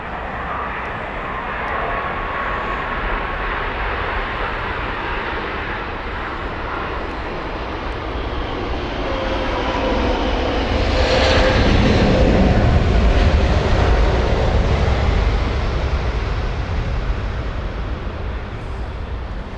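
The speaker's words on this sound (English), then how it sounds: "There is our second, or I should say third, A380 and our second Emirates A380." An Emirates Airbus A380 airliner at Heathrow Airport gives off a broad engine roar that swells to a loud peak midway and then eases, with no talking.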